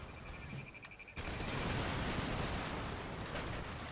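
Musket volley fire from massed line infantry in Empire: Total War, a sudden dense crackling roar that swells and sustains as a loud, continuous fusillade.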